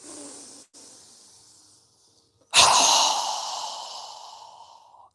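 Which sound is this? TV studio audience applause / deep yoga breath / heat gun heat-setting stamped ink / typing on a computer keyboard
deep yoga breath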